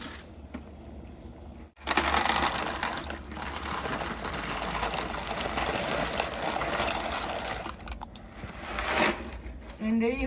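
Dry pasta from a whole box pours into a pot of water, a dense rattling clatter of pieces that starts abruptly and runs for several seconds, close and fairly loud.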